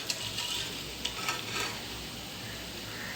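Raisins fry in hot oil for a banana and flattened rice snack, sending up a soft, steady sizzle up close, broken by a few faint spoon clicks against the pan.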